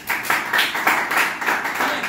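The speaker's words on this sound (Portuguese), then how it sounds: "Uma salva de palmas para ela." An audience at a self-responsibility training event applauding, a steady rhythmic patter of many hands clapping together at moderate distance.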